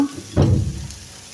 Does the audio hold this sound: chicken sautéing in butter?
yes